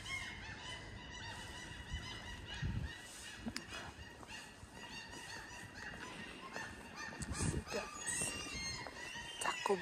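Seabirds calling along the coast of a Swedish city on an early morning walk, scattered honking and squawking cries near and far over a quiet outdoor background.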